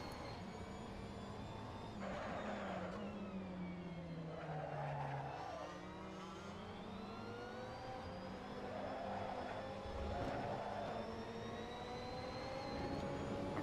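A GT3 race car in the Assetto Corsa video game, with its engine revving up and down through the gears in a continuous, moderately loud drone. Rising and falling pitch sweeps run across the whole stretch without talk.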